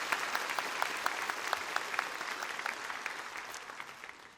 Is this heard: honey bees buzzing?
no